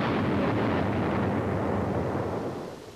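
A 500-pound bomb slams into a Japanese ship in a 1950 radio-style wartime dramatization, a loud, sustained roaring blast that rumbles for about three seconds before starting to fade, with no voices.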